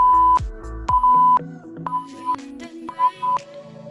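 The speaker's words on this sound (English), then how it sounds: "Had the beeps in time with the rhythm of the song for a second there." A workout interval timer sounds a series of short electronic beeps, roughly five tones in quick succession, clear and fairly close, over a faint music background.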